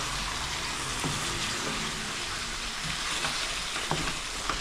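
Chicken fries with onion and oil in a pan, giving a close, continuous hiss and crackle with faint stirring scrapes and no voices.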